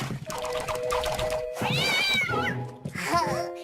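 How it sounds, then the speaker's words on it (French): A cartoon cat lets out a string of loud, drawn-out meows and wailing yowls, close and insistent, with brief gaps between calls. "Tu es un méchant chat!"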